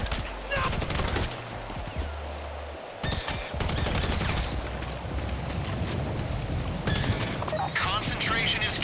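Rapid automatic gunfire from a Carbine Rifle Mark II in GTA Online comes in loud repeated bursts, dense and close, with game effects and bangs between volleys and no talk.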